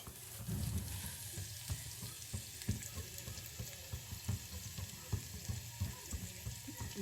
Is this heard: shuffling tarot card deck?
no